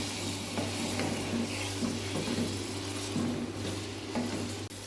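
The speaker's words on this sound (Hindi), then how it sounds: "गोश्त को थोड़ा भून लेंगे।" Mutton frying in a pot while being stirred, with a dense, steady sizzle over a constant low hum and faint scraping movements throughout.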